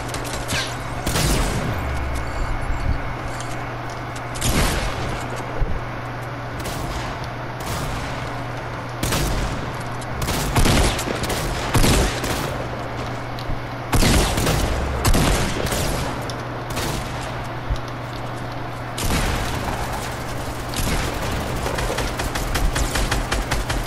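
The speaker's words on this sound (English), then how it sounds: "My shotgun just keeps reloading its shells." Shotgun fire in Fortnite, a dense run of loud blasts with rapid shell-loading clicks between them over steady background game noise and a constant low hum.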